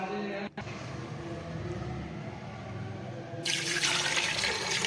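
Water pouring into a pot of lentils and chicken in a home kitchen for Pakistani cooking, a steady broadband splash that turns louder and brighter partway through.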